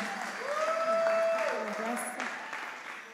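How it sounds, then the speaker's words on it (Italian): Audience applause for young people at a Good Friday church gathering in Italy, a moderate wash of clapping with a sustained tonal sound ringing over it and some voices mixed in. "Facciamo un applauso ai ragazzi."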